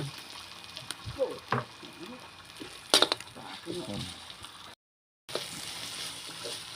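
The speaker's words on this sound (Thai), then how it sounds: "พริกแกงลงไปผัดให้หอมเลยนะครับผม" Red curry paste stir-fries in oil, a light sizzle beneath intermittent scraping and clattering of a spatula in the pan, with one sharp metallic clank midway and a brief dropout near the end.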